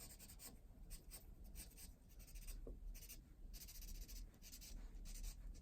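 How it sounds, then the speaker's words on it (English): Pencil on paper, the side of the lead dragged in straight downward strokes to shade lines for a mountain landscape; a steady, soft scratchy rubbing repeats in short strokes close to the mic, with no talking. "Using the side of my pencil."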